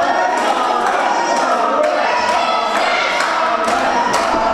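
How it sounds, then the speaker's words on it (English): A wrestling crowd at a UWC Online show cheers and claps in a steady loud roar, with sharp rhythmic thuds and claps cutting through the noise. "Crowd here trying to get Konrad back into it."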